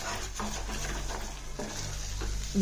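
Chopped tomatoes are stirred in a hot pan over a high flame, giving soft scraping and light sizzling strokes under a steady background hiss, fairly faint and without voices.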